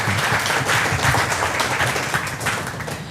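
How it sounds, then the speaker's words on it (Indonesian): An audience claps during a talk on pesticides and acidic kangen water, producing a full, continuous patter of many hands that stays even and fairly loud for the whole stretch. "tepuk tangan dulu dong buat strong kanggeng"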